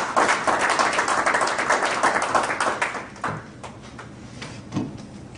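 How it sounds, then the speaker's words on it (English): A round of applause from the audience at an induction and investiture ceremony, loud dense clapping that fades after about three seconds into a few scattered claps. "Give yourself another round of applause for that."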